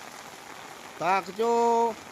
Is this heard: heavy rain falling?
yes